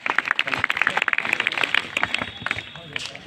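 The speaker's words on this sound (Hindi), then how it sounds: "चलिए, जोरदार तालियां इनके लिए।" Students at an intermediate college meditation training session clap together in a burst of close, rapid applause lasting a few seconds, with voices in the room.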